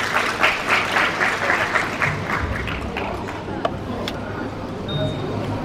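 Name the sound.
audience applause at a school ceremony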